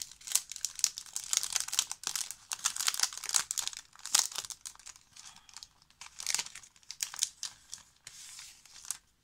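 Paper packaging of scrapbooking die-cuts being opened, with repeated crinkling, rustling and tearing in bursts at close range, no talking.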